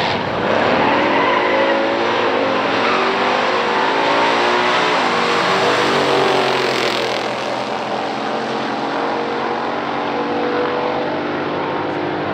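Drag race with a Ram Air 4 GTO lined up against a Hemi car, the engines roaring loud and close in one sustained blast that holds steady for about twelve seconds as both cars pull hard down the strip.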